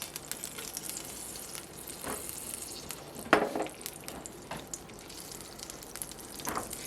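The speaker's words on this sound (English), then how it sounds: "Now add to your skillet a tablespoon of butter and a tablespoon of olive oil." Butter and olive oil melting in a hot skillet give a soft, steady sizzle with faint crackles and a few brief pops, close by and low in level, with no talking.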